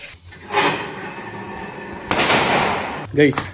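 Firecrackers go off in loud, close bursts: one crack followed by crackling, a second sharp bang with a longer crackle, then a final burst near the end.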